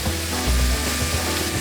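Oysters and country ham sear in a hot wok, giving a loud, dense, continuous sizzle close up, with stirring scrapes and clanks breaking through at intervals across the short stretch.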